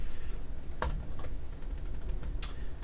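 Typing on a computer keyboard during a coding session, a few sparse, close key clicks with short pauses between them, over a low steady hum and no talking.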